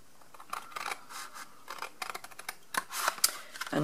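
Cutting along a score line with scissors, a run of short snips and crisp paper crunches, close and fairly quiet, with small rustling between cuts.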